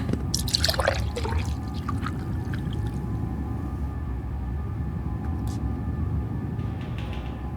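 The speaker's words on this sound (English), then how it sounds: "Pour myself a drink here." A drink being poured indoors, a soft liquid trickle and drips near the start fading into a steady low background rumble.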